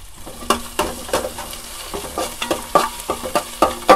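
Chopped onion, curry leaves and green chili sizzle and are stirred in hot coconut oil for a Kerala street-food kappa mutta masala, with steady frying hiss broken by regular spoon scrapes and clinks in the pan.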